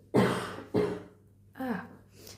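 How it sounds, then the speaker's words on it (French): A person coughing three times, close and fairly soft, with rough, throaty bursts spaced about half a second to a second apart, the last one more drawn out. "je commence à tousser là"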